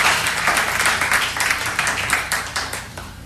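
A church congregation applauding and clapping steadily throughout, a dense, continuous patter of many hands with some louder accents, with no other sound rising above it.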